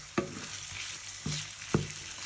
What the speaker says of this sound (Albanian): qepa tashmë ka marrë ngjyrën e saj më të skuqur, lëshojmë dhe mishin tonë